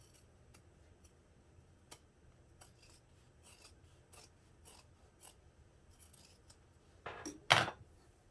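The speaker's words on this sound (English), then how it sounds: "Alright, now we're going to trim this seam allowance." Scissors trim a fabric seam allowance down to about an eighth of an inch while sewing a bag's lining panel. Faint, scattered snips and rubbing sound through most of the stretch, then a couple of louder, closer cuts near the end, with no talking.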